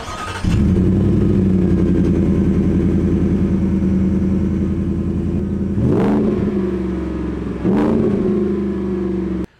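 A Whipple Stage 2 supercharged truck engine with a Borla Touring catback exhaust rumbles loudly and close at a steady idle, broken by two sharp throttle blips with quick revs.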